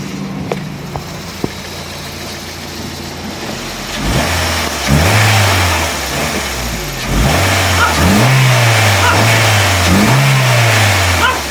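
A Honda Fit engine idles roughly, then revs sharply several times as the throttle is punched, each burst rising and falling close by, with occasional clicks before the revving starts and no speech.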